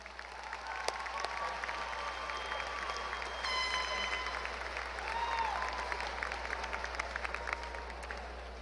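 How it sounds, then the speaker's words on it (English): Graduation ceremony audience at a high school applauds steadily for several seconds, a sustained wash of clapping with a faint tone sounding briefly partway through. "Let's give her a round of applause."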